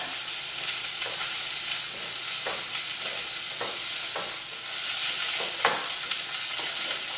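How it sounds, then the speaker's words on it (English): Sliced asparagus sizzles steadily in a hot pan, a continuous bright frying hiss broken by occasional soft scrapes and taps as the pieces are tossed. "Give my asparagus a little toss"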